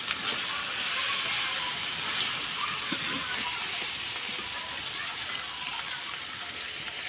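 Water goes into a pot of frying beef for khichuri, producing a dense, loud hissing gush of steam and bubbling that holds steady and eases slightly toward the end.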